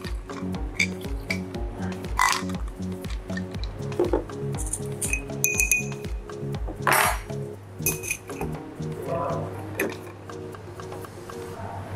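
A small glass clinks and ticks while a coffee mocktail is stirred and assembled, sharp light chinks scattered over a steady rhythmic ticking, close and clear, with brief talk.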